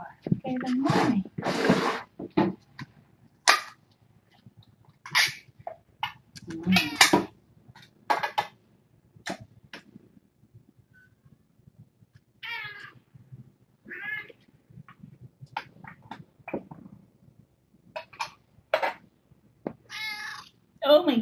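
Tiny shelter kittens give repeated high, thin meows in scattered bursts close by, while someone talks softly between and over them.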